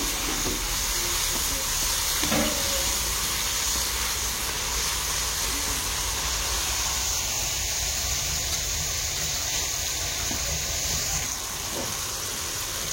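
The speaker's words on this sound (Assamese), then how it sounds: "বিলাহীখিনি খুব সুন্দৰকৈ ভাজি লম" Tomatoes frying in a wok stirred with a wooden spoon, a steady close sizzling hiss that runs without a break from start to finish, no talk over it.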